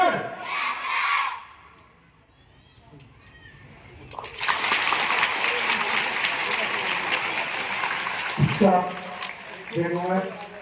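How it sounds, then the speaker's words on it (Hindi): Audience applause breaks out and swells into sustained clapping from a crowd, loud and continuous for several seconds, with a voice talking before it and brief speech fragments as it tails off. "आपको भी क्लैपिंग करना है।"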